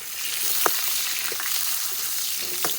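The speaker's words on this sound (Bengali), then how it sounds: "মাছ ভাজা তেল ছিল, তার মধ্যে আলুটা ভেজে নিচ্ছি।" Potatoes frying in leftover oil from fried fish, a loud, steady, close sizzle that fills the whole stretch, with a few soft clicks of a stirring utensil.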